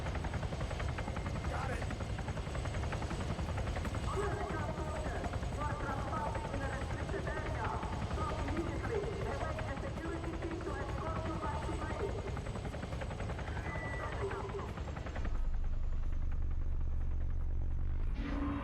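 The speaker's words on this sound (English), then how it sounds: "There's a helo." A helicopter in the video game Arma 3 drones steadily at a moderate distance while voices talk over it. Near the end the sound drops to a lower, heavier rumble.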